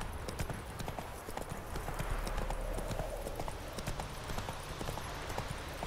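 Horse hooves clip-clop in The Witcher 3 video game, a quick, steady run of light, even hoof strikes that continues throughout at a moderate distance with faint game ambience behind.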